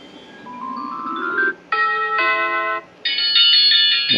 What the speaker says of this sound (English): that's what would happen when somebody rings your doorbell